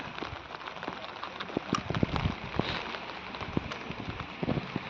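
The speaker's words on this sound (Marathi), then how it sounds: "बघा आला परत पाऊस मुसळधार" Heavy monsoon rain in Dapoli pours steadily with a dense patter of drops hitting surfaces close by.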